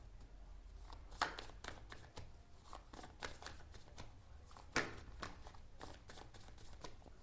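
Tarot cards being shuffled by hand, with soft repeated riffling and slapping bursts, one sharper flick near the start and another midway, quiet and close over a low steady hum; no talking.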